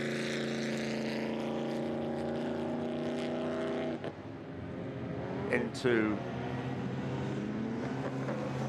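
A pre-war sports racing car roars past through Club Corner at Silverstone during a Bentley Centenary Trophy race, its loud droning engine note fading as a commentator talks over it.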